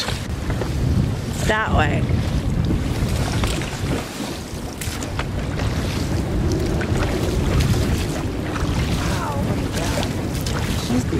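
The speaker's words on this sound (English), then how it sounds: "we're like surfing in the dinghy" A small sailing dinghy surfs over waves at sea, with loud continuous rushing water and wind buffeting the microphone throughout, and a person speaking briefly over the noise.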